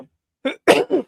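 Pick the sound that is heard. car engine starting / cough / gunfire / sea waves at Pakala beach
cough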